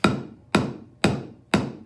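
A hammer knocks a nail into wood for string art, four sharp, evenly spaced blows about half a second apart, close and loud, each ringing briefly before the next strike.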